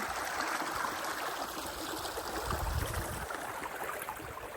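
Water rushes steadily through an irrigation channel in a Punjab field, a continuous close gurgling stream with no voices.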